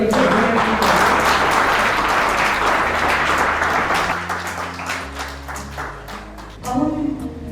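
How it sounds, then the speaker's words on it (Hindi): Audience applause at a Peakhikers third-anniversary meet-up stage event, a dense, loud wash of clapping that thins slightly toward the end, with music or low hum underneath. "तालियां दो."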